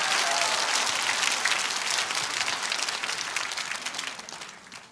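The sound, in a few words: audience applause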